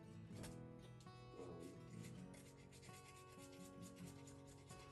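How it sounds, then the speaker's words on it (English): Old fletching and glue being scraped off a crossbow bolt: steady, faint rubbing and rasping strokes, close up, over a constant tonal background hum. "All you do is just take and keep scraping this off."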